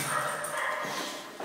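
Several dogs bark and yip close by in a short, agitated burst that carries across the whole moment.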